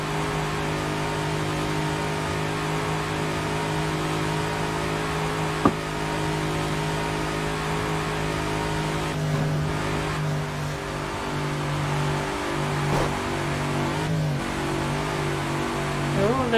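Race car engine in the video game Project Cars, a steady loud drone that holds on through a hot lap with slight pitch swells as it accelerates and a few brief clicks along the way.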